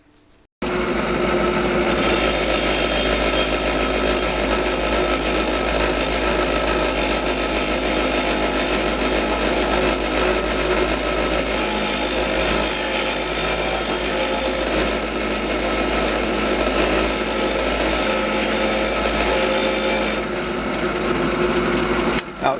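A power tool with a rough fiber disc grinds plating off a motorcycle sprocket, starting abruptly and running as a loud, sustained high whine with a gritty edge until near the end.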